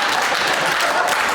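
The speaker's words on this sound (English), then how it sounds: "That is a confusing applause point" Dense audience applause at a stand-up comedy show, a steady wash of many hands clapping close and loud, briefly filling the room with no voices on top.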